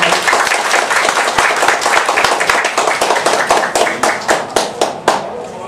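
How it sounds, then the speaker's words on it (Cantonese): Enthusiastic applause from an audience at a business training meeting, dense clapping that thins into a few louder, separate claps near the end. "再俾多一次最熱烈嘅掌聲俾我哋 Sally"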